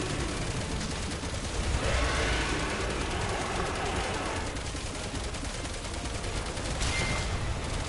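Dense, continuous video game gunfire from Resident Evil 6, a steady rattle of rapid shots filling the scene from start to finish with no clear gaps.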